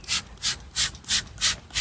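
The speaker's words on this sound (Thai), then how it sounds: "ทำการฉีดพ่นป้องกันแมลงไปเลยนะครับ" A hand sprayer hisses insecticide onto green onion plants in a vegetable plot, giving six even, loud bursts of spray at a quick steady rhythm, with no talking.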